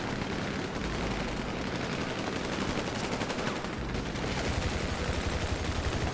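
Dense, continuous video-game gunfire from a team battle mode, shots and bursts crackling from every direction in a loud, unbroken barrage with no clear pauses.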